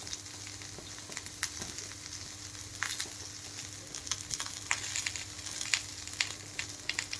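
Dried coconut roasting in a pan for spicy village-style mutton sukka: a low continuous frying crackle with frequent short sharp ticks and pops, close and steady, no voices, with a faint steady hum beneath.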